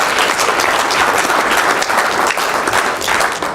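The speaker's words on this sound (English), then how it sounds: "Give them all a round of applause." An audience applauds in a dense, steady wash of clapping that stays loud and even for several seconds without anyone speaking.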